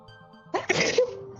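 Short sneeze from a video game character, a single sharp burst over faint game music.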